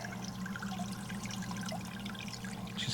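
Water trickling and splashing steadily through the buckets and tubing of a pumped hydroponic bucket garden, a continuous close dribbling flow with no speech.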